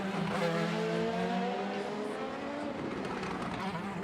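IndyCar race cars at the Acura Grand Prix of Long Beach street circuit, Newgarden and Callum Ilott's Prema car, howling past with a steady high engine whine and shifting pitch, loud and continuous with a faint commentator voice underneath.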